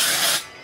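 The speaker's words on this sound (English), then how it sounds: "I'll just spray some." A can of Batiste dry shampoo sprays in one short, close, hissing burst that cuts off abruptly.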